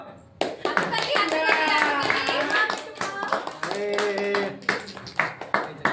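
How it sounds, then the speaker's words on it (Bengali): Family members clap their hands at an anniversary cake cutting, a lively patter of claps mixed with cheerful voices and chatter, the claps growing sparser and more distinct toward the end. "বলো তোমরা বলো, হাততালি দাও।"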